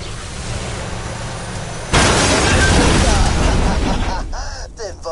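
In the video game Borderlands 2, a sudden loud boom bursts in about two seconds in, followed by a sustained roaring rumble with crackling debris, then a short voice near the end.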